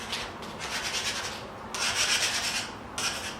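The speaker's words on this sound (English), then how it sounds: "before you sand, you just mark your table" A pencil rubs lightly back and forth over a wooden coffee table, making a steady, gritty scratching with louder bursts of strokes, close up and alone.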